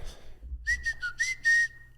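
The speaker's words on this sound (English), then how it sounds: "I can whistle." A person whistles a short run of several bright notes, some gliding into one another, close to the microphone and alone over a quiet background.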